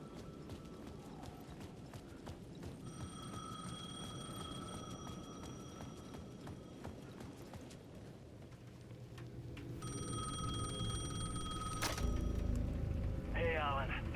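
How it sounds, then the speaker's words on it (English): A payphone at the edge of a plaza in Alan Wake 2 rings in two long, bright, buzzing bursts separated by a pause, set against a busy, rumbling background. "The payphone at the edge of the plaza was ringing again."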